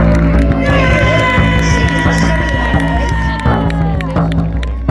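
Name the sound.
festival audience cheering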